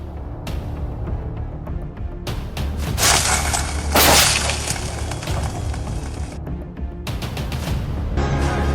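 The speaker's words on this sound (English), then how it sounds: "Two masked men smashed the store's glass door and stormed inside" A store's glass door shatters with a loud crash as masked men smash it, followed by a burst of breaking and scattering shards over steady background rumble.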